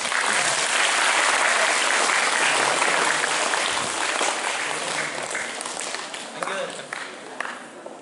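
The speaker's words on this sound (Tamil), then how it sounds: "அதனால கிறிஸ்துமஸ் தாத்தாவை நீங்க எத்தனை பேர் சந்தோஷமா கைதட்டுங்க பார்ப்போம்" A festive audience at a Christmas celebration claps steadily for Santa Claus, with dense, loud applause filling the whole clip before easing slightly toward the end.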